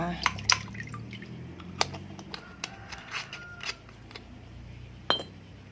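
Liquid rice-water fertilizer poured from a bottle cap onto garden soil, giving a few soft drips and splashes spread over several seconds, with light handling clicks in between.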